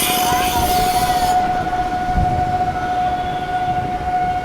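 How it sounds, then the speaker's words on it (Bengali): Krishnanagar–Amghata local train reversing out of Krishnanagar station, a loud steady horn tone sounding over continuous rumbling, clattering rail noise throughout, with a brief bright hiss at the start. "ট্রেনটা দেখো কিভাবে ব্যাক নিচ্ছে।"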